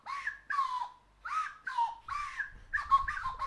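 Wooden slide whistle playing a rough, wavering take on Hot Cross Buns: a series of short sliding whistled phrases with gaps between them, fairly close and clear, with faint low rumble near the end.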